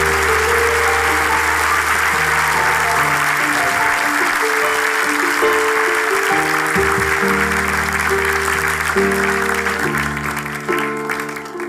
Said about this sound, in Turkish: Büyük alkışlar